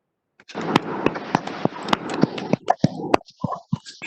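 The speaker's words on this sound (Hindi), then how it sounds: "जोरदार ताली एक बार" An audience at a government school event claps loudly, a burst of sharp, uneven hand claps that starts abruptly and thins into scattered individual claps, close and echoing in a room.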